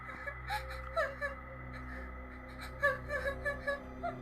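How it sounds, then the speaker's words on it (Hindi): At night, a woman cries softly on a swing. Her broken whimpering sobs come in uneven bursts, with a steady low hum underneath. "तभी अचानक किसी के रोने की आवाज आई।"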